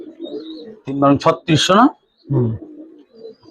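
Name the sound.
Giribaz and coloured pigeons cooing at a farm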